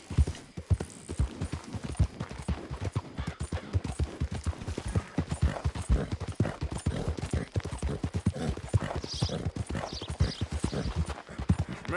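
Horse hooves galloping in Red Dead Redemption 2, a fast, steady clip-clop rhythm that stays loud and close throughout the gallop, with a faint low rumble beneath and no talking.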